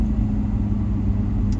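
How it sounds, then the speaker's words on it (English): A car tows a loaner Toyota Camry on the road, giving a loud, steady low engine rumble and road drone that holds without change throughout, with no voices. "I'm going back to the Fremont shop right now, towing the loaner Camry"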